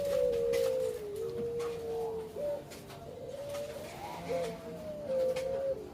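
A pelung turtle dove coos in a steady, rolling series of low, drawn-out calls, close and clear, over faint background noise without talk.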